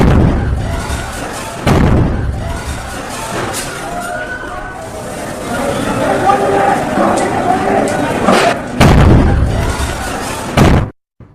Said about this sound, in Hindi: ये सिलेंडर फटने के धमाके